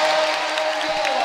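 A large basketball crowd at a Florida State home game against Loyola Maryland roars in a loud, sustained wash of cheering and applause, with a commentator's voice running over it.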